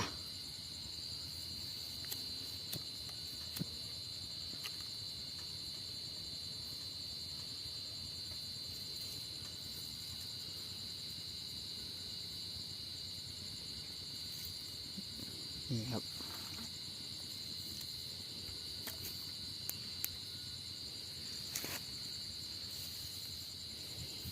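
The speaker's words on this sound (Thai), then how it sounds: "หน้านี้หน้าจิ้งหรีดครับ จิ้งหรีดร้องเยอะ" Steady, high-pitched chirping of many crickets at night fills the whole stretch, with occasional faint clicks and rustles in the background.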